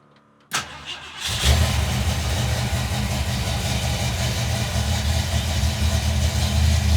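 A car engine cranks and catches, then settles into a loud, steady idle running close by without a break as it warms up.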